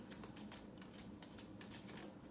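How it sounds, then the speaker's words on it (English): Quiet, rapid riffling of tarot cards being shuffled, a soft rhythmic flutter of paper flicks close by. "Let me go ahead and shuffle for a bit."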